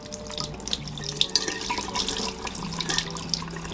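Raw mackerel is rinsed under a running kitchen tap, a steady close rush of water into the sink with small splashes and drips as the fish is handled, and no talking.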